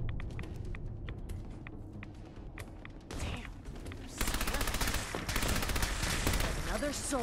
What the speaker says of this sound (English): their gamma guns are insane.